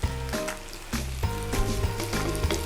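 Bubble and squeak, leftover roast dinner vegetables, sizzles and crackles as it fries low and slow in a pan while being squashed down, a close, steady frying hiss with soft thuds of pressing and a low hum beneath.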